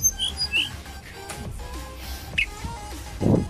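A tledekan bird gives short chirps and squeaky calls in quick, scattered bursts at close range, with a brief rougher burst near the end.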